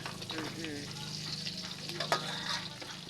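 Offal fries in a pan while being stirred, a continuous sizzle with scraping strokes, heard close and moderately quiet alongside faint talking.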